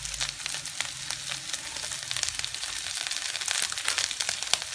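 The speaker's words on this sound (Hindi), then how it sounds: "अदरक लहसुन के साथ हम फ्राई करेंगे।" Ginger garlic paste fries in a pan with a soft, steady sizzle and crackle, with occasional stirring scrapes close by.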